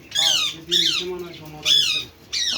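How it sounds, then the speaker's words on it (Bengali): A cockatiel squawks in loud, harsh bursts, four separate calls spaced unevenly over a couple of seconds, kept with other foreign and local birds at a rooftop garden; faint background sounds run beneath the calls. "কোকাটেল আছে"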